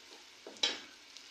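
Chopped onions fry in a pan in a home kitchen, a soft sizzle broken by a couple of quick stirring scrapes, close and fairly quiet.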